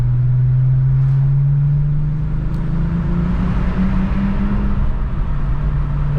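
Volkswagen Jetta wagon with a 12-valve VR6 engine droning steadily inside a tunnel, a loud continuous hum whose pitch climbs gently as it pulls through, with no talk over it.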